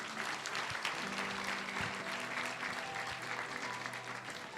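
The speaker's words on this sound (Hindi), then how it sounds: "जोर से ताली बजाएंगे।" A church congregation claps loudly in praise during an evening worship session, a dense steady wash of applause filling the whole moment, with faint low hum beneath.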